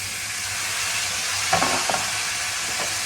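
Chickpeas dropped into hot oil for a tempering sizzle with a loud, steady frying hiss, and a few soft knocks from stirring in the pan midway.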